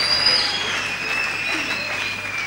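A church congregation applauds to acclaim God as king of kings. Dense, steady clapping fills the room throughout and sounds fairly loud and close, with faint voices mixed in.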